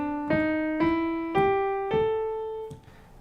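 Five plucked or struck pitched notes rising one after another in a major pentatonic scale with an added flat third, each sharp attack ringing with bright harmonics, evenly spaced and clear with no talking.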